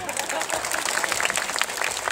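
An audience claps for a magician on stage, a brief, even burst of crowd applause with voices mixed in.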